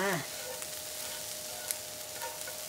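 Dried pollack strips pan-roasting, a steady close sizzle with faint crackles and a light tap partway through, after a brief voice at the very start.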